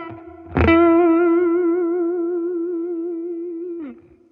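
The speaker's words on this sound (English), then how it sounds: "Or you can do very fast vibrato." A single sustained guitar note, struck hard and shaped with a very fast, even vibrato, rings out loud and alone through effects with reverb, wavering rapidly for about three seconds before it is cut off.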